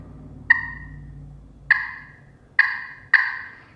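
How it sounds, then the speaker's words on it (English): Sharp clucks struck on a turkey pot call with a striker: four short, loud, close chirps, the first alone, then a gap and three more spaced closer together, each fading quickly over quiet room noise. "the first sound I'm going to make is going to be a cluck"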